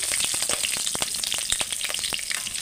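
Bay leaves and green chilies crackle in hot oil as a tempering, a steady close sizzle dotted with quick popping spits throughout.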